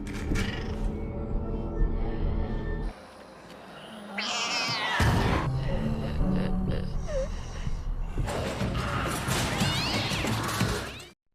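A pet cat meows and caterwauls amid a zombie-outbreak movie scene, its cries rising clearly several times over tense background score and crashing effects.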